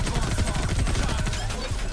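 Sustained automatic gunfire from big guns in an animated Invincible episode scene, a dense continuous rattle of rapid shots filling the whole moment, loud and steady.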